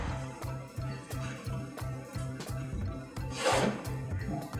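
A wood graining tool is dragged lightly through wet paint to make a faux wood grain. It gives soft, rhythmic rubbing strokes, about ten close, quiet scrapes in steady succession.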